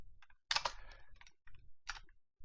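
Typing on a computer keyboard during C# coding in Unity, heard as quiet bursts of key clicks separated by short pauses, with no talking.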